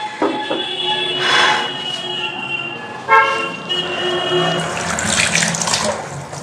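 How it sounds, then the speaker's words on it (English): Tap water running in a kitchen sink during hand washing, a steady close splash with shifting pitch and a few clunks of the faucet or dishes. "I have to wash my hand"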